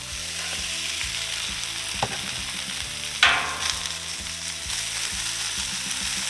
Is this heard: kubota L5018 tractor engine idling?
no